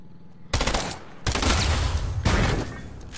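Three loud, close bursts of rapid SMG fire from a video game, each lasting under a second with brief gaps between, heard alone with no talk.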